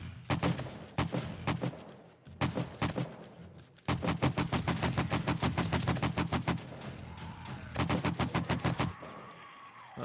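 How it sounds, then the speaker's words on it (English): Rapid automatic rifle fire in 7 Days to Die during a horde night, sharp repeated bursts with short pauses, then a long sustained stream of shots, loud and close. "Oh, I shot him in the rear end and killed him."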